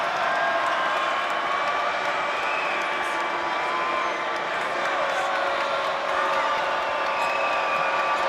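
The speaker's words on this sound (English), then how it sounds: "the crowd has something to say after one free throw miss" An arena crowd at a Temple vs. Boston College men's college basketball game murmurs and jeers with steady overlapping voices and scattered shouts after a missed free throw, a broad sustained din.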